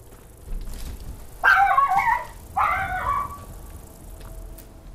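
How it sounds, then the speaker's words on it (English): A frightened dog barks in two loud harmonic bursts during a lightning storm, the second a little shorter, over a steady low rumble of background noise. "My dog's barking because she's afraid of the lightning."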